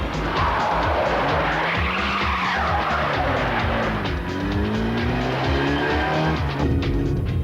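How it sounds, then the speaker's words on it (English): Stolen cars skid at speed while joyriding, tyres squealing in long wavering screeches over loud, continuous engine roar, with no talk. "Joyriding, raking around at speed in stolen cars."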